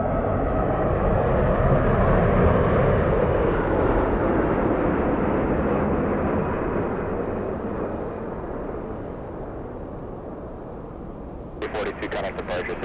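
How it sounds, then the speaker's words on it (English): A large Airbus A350-1000 airliner on a flight from London rumbles loudly and steadily at an airport, its broad roar slowly fading, with brief crackles near the end. "We have a big A350-1000 catching me by complete surprise."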